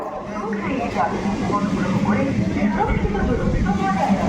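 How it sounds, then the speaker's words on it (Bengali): A local train heading toward Howrah station runs with a steady, continuous rumble and rattle, while passengers talk loudly over it throughout. "আমাদের লোকাল ট্রেন"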